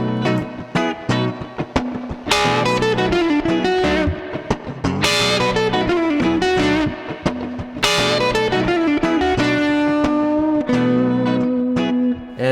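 Blues rock electric guitar lick built on the minor blues scale with the added flat fifth, played over a full backing track; bent, sustained lead notes ring loud and steady across the whole passage with no talking.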